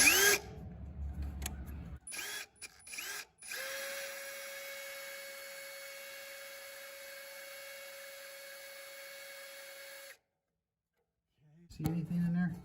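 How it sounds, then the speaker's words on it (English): A power drill drilling into metal starts with a few short bursts, then whirs steadily for several seconds before stopping; brief voices come before and after. "you see I got my drill in there."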